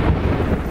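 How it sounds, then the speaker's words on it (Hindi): Rain and thunder in a storm scene from a Hindi-dubbed movie: a brief, loud burst of dense, hissing downpour over a low rumble, with no voices. "बारिश हो रही है"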